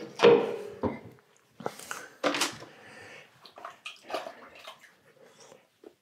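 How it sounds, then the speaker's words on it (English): Water is splashed and sloshed onto a tall clay vase on a pottery wheel, coming as several close, uneven bursts of wet pouring and dribbling with pauses between them and no talking. "now I usually add some water up here"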